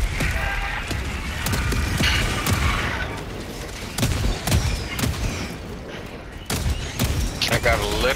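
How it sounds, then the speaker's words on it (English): Sustained machine gun sentry fire against bugs in Helldivers 2, a dense rattle of gunfire with heavier booms and thuds punching through, loud and continuous throughout, with players talking over the combat. "I got a machine gun sentry"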